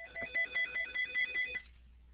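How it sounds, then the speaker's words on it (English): A phone rings nearby in a quiet room, a quick repeating electronic trill of bright pulses lasting about a second and a half before cutting off, fairly soft and heard alone. "Got my phone ringing."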